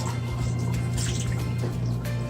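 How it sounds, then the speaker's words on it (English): Tap water runs into a cup in a steady, close trickle and pour with small drips and splashes over a constant low hum, no talking. "fill up this cup here real quick with some tap water"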